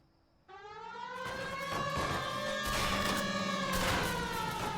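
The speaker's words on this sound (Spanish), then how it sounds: "No pongan la sirena" Police car siren in the video game L.A. Noire, a loud wailing siren starting abruptly and sustaining with rising harmonics, mixed with crackling gunfire-like noise and no speech.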